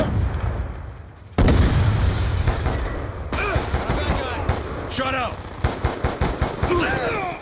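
MSMC submachine gun fire in Call of Duty Black Ops 2, rapid automatic bursts and booms up close, with game voice chatter and shouting mixed in over the shooting.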